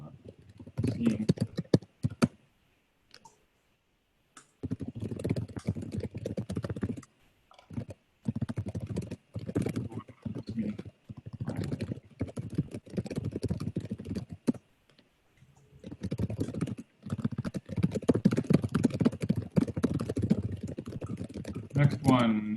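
Computer keyboard typing from an unmuted participant on an online programming-language team meeting call, rapid irregular key clicks coming in bursts over and between a person talking.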